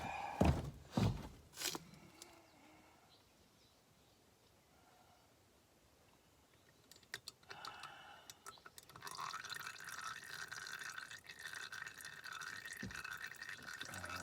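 Oil drains from a Tao Tao DBX1 140cc dirt bike: a few sharp clunks at the start, then a faint trickle, and later a clearer steady stream pouring into a container, with no talking.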